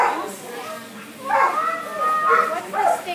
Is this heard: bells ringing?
no